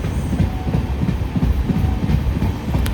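A train running on rails after leaving Alappuzha, with loud, close rolling rumble and a steady clickety-clack rhythm throughout.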